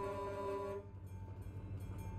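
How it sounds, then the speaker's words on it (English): A train in the Euro Truck Simulator 2 video game sounds a loud steady horn tone that cuts off, leaving a low rumbling rolling noise of the passing train. "There's the train."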